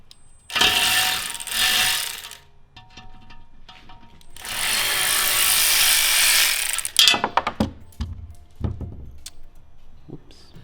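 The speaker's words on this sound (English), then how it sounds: "I'm just gonna run off each one of these bolts." Ratchet wrench spinning off the bolts of a worn three-piece wheel that no longer holds air, heard as two long bursts of fast metallic clicking, followed by scattered clanks and taps of tools and parts.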